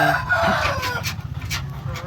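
An Orpington Blue and white Leghorn cross chicken crows and clucks amid a low background rumble, the calls ringing out clearly near the start before trailing off.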